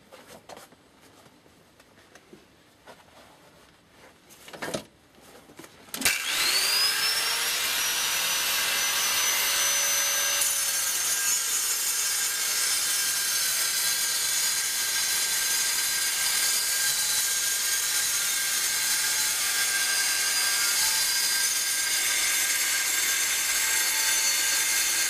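An angle grinder with a thick cutting disc bites into a steel knife blank, starting after a few clicks and knocks, then a loud continuous high whine with shifting pitch that holds to the end.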